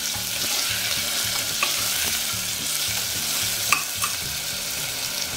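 Raw potato frying in hot oil for sabudana khichdi, a steady close sizzle with a rhythmic scraping of stirring and a few brief clinks of the utensil against the pan.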